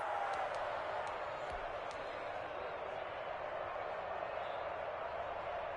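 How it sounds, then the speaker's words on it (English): A football stadium crowd roars steadily through a 2-point conversion attempt in a Broncos–Seahawks game, a dense, loud sustained wash of noise with no breaks. "Listen to this crowd now."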